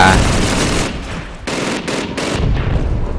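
Rapid automatic gunfire in Call of Duty 2, friendly fire from the player's own side, loud bursts rattling in quick succession with short gaps between volleys.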